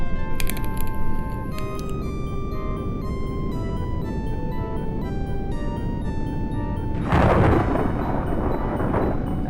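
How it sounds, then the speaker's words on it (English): A terrible storm in the Death Gate adventure game, with a tonal music line playing before a loud rolling thunder crash bursts in and rumbles on near the end. "Your ship arrives in the midst of a terrible storm"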